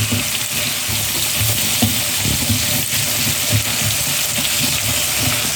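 Garlic frying in oil in a pan while being stirred: a loud, dense, continuous sizzle up close, with soft stirring scrapes beneath it.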